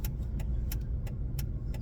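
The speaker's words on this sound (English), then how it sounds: "Where all this traffic coming from?" Steady road traffic rumble from inside a moving car during a drive through town near construction, a continuous low engine and tire drone with periodic faint ticking, no talking.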